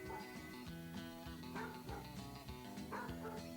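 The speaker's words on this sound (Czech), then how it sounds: "Štěňata si začínají spolu hrát, okusují mámě uši, vyluzují zvuky podobné štěkání" Three-week-old Czech mountain dog puppies yip and make little bark-like sounds while playing together and chewing on their mother's ears, the calls frequent and close over a steady background.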